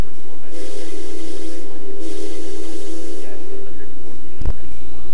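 A BNSF freight locomotive on Marias Pass in Train Simulator 18 pulls away under throttle, with a steady low engine drone, bursts of air hiss, and a brief sharp clank near the end, loud and close.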